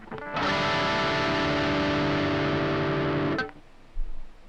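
A distorted electric guitar, played through an amp simulator plugin with a low-gain tone, rings out in a sustained chord for about three seconds, then cuts off abruptly; a brief thump follows near the end.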